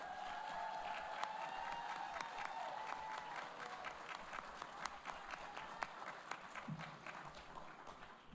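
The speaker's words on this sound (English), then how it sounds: "let's give the faculty a round of applause." Audience applauding faculty at a continuing and professional studies ceremony, sustained even clapping from a large crowd that fades slightly toward the end.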